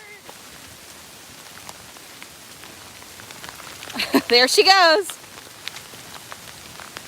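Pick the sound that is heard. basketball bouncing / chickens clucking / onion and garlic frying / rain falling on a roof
rain falling on a roof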